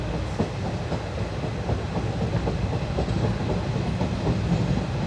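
The 22149 Ernakulam–Pune Superfast Express runs through the Bhor ghat in monsoon with a steady rolling rumble and a continuous clickety-clack of wheels over rail joints, heard from on board with no talk.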